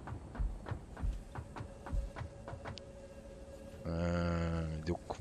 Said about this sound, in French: Et ça doit être les moteurs.